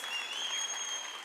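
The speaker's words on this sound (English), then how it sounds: "I think that alone deserves a round of applause." Audience applause at the official opening of the 2022 National Arts Festival, a steady dense wash of clapping throughout with a faint high whistle-like tone running across it.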